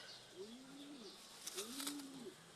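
Pigeons coo nearby in two soft, rolling calls, each rising and falling, faint against quiet background noise with a brief flutter between them.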